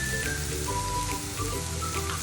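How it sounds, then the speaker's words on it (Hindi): Chopped garlic sizzling in two tablespoons of oil in a frying pan, a steady, faint crackle and hiss throughout with no speech. "1 टीस्पून लहसुन गार्लिक का चॉप किया हुआ है, इसको थोड़ा सा सॉटे करेंगे हम।"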